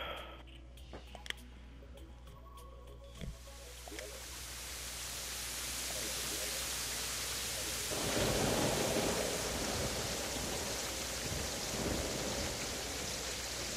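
Rain and thunder in Terraria build into a dense, continuous wash of rainfall with low rumbles, swelling louder partway through.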